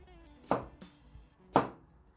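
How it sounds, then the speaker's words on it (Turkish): Onions being diced with a vegetable knife on a cutting board, two sharp, close chops with a few lighter taps between them, crisp and distinct in a quiet kitchen. "Küp küp istiyorum soğanlarımı."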